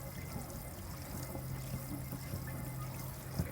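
Water runs and trickles steadily into a sink as a painted Honda CG 125 café racer petrol tank panel is washed down, a faint, even splashing wash with no talk.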